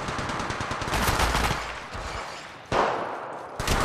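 Bursts of automatic gunfire from an Apex Legends Mobile match, dense rapid shots with sharp new volleys breaking in near the end, loud and continuous without voices.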